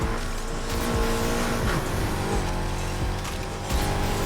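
Race cars speed through a test race in the video game Need For Speed Heat, with engines roaring continuously and tires squealing loudly and steadily throughout.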